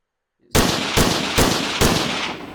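After a moment of silence, a Redwave 2 gun fires four loud, evenly spaced shots, each with a booming, ringing tail that carries into the next.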